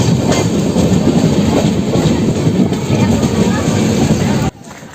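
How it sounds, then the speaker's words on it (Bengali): Dhauli Express pulling out of Bhubaneswar station, a loud continuous rumble of rolling carriages with faint clickety-clack, heard from on board, cutting off abruptly near the end; a voice speaks over it. "এখন কিন্তু ভুবনেশ্বর স্টেশন থেকে আমাদের ট্রেনটা ছেড়ে দিচ্ছে"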